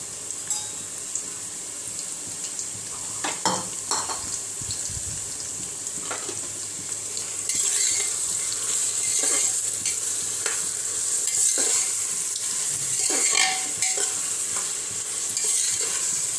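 Onions sizzle steadily in a hot pan for a chicken bhuna fry while a spoon stirs and scrapes through them, the frying growing louder partway through, with no talking.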